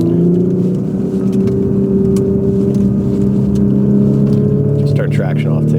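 Porsche Macan with the 2.9L V6 twin-turbo in sport mode pulling hard, a steady loud droning engine note heard from inside the cabin, with a brief burst of turbo whoosh toward the end.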